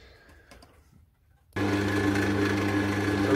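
A woodturning lathe suddenly starts up partway through, its motor giving a steady mechanical whir with a droning hum that runs loud and unbroken to the end, following a brief quiet stretch.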